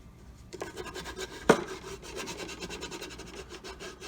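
Textured bottom of a grill pan being rubbed, giving a close, quiet rasping scrape that runs steadily with one sharper knock, and no voices.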